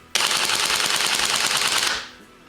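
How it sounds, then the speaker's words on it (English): A GBLS DAS M4A1 gas blowback airsoft rifle fires BBs in one continuous rapid burst of about two seconds, loud and close, then cuts off sharply as the magazine runs empty. "when the mag is out of BBs, the bolt locks back and the gun stops firing"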